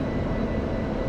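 Steady, moderately loud drone of a small plane's engine in the DCS flight simulator, idling near the runway at Nellis AFB, a continuous low rumble with no pauses and no voices.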